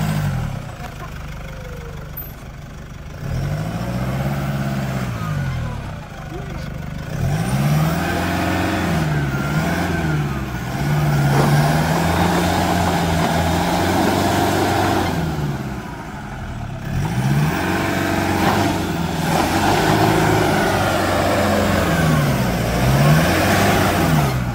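A Toyota Hilux pickup driving over an off-road obstacle, its engine repeatedly revving and easing as it climbs, with a steady mid-pitched drone close by and faint voices underneath.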